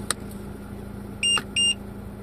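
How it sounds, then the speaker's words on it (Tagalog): A solar tire pressure monitor sounds its high-temperature alarm: a brief tick followed by two short, bright electronic beeps in quick succession over a faint steady hum. "Ito yung alarm ng temperature, high temperature."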